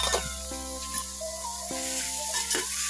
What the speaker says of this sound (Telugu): ఫ్రై అయిన తర్వాత టమాటాలు వేసుకోవాలి